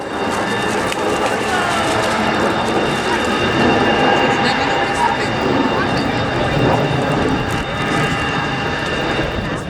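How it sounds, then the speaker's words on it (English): A naval helicopter holds a close, low hover at an air show, its steady loud rotor and turbine roar filling the air without a break. "In for a close hover. Good look at the aircraft here."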